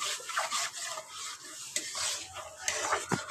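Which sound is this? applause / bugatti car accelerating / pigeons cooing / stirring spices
stirring spices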